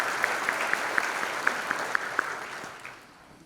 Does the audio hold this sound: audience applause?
yes